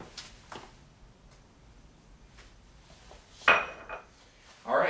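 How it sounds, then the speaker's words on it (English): A utensil clinks and scrapes against a pan while chicken marsala sauce is stirred, giving a few sharp metallic knocks over quiet background. "go ahead and mix it around"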